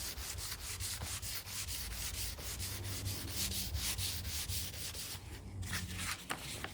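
Sandpaper rubs back and forth over a wooden jewelry box in quick, even strokes, a close, steady rasping scratch with no voices.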